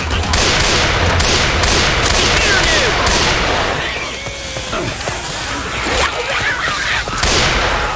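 Gunfire in the zombie shooter Left 4 Dead 2: loud rapid volleys of shots and sharp cracks packed together, easing briefly in the middle before more bursts.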